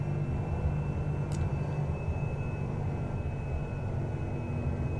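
The steady drone of a Cessna 208B Grand Caravan turboprop engine at high idle in X-Plane 11, a dense continuous low rumble with a faint high whine, unchanging throughout.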